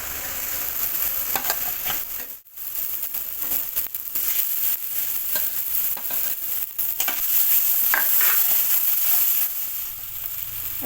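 Cashew paste with grated tomato frying in a pan for a kabuli chana curry, a steady close sizzle with scraping stir strokes and a brief dip before the hiss swells louder.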